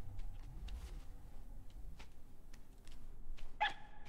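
A dog in the video game RiME gives a few short, faint barks and yips over a quiet ambient background, with a brighter chime-like tone sounding near the end.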